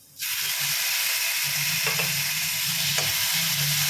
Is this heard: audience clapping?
no